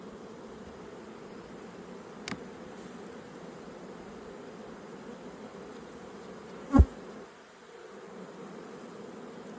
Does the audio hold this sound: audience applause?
no